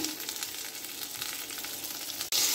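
Salt, turmeric and chili powder fry in hot oil with a steady, fairly quiet sizzle and crackle that continues throughout, then cuts off briefly near the end, with no talk.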